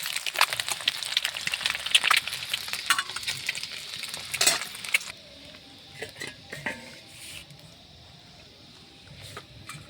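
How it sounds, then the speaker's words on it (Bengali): An egg fries in oil in a pan, giving a busy sizzle with scraping and stirring clatter close by. The sizzle quiets noticeably about halfway through, leaving scattered utensil taps. "ডিমটা আমার সুন্দর করে লাল করে ভাজা হয়ে গেছে, এখন আমি তুলে নেব।"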